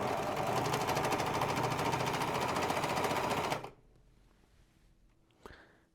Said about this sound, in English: And then we will overlock